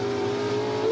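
Pro Stock drag race cars, including a Chevy Camaro, roar at Calder Park Raceway during the 1995 Australian Nationals, a loud sustained engine drone with a steady high tone that builds slightly at the end.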